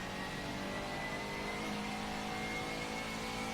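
A race car engine in the R4G racing game revs up hard as the throttle comes back on exiting a curve, a loud steady mid-pitched drone rising throughout with no voices.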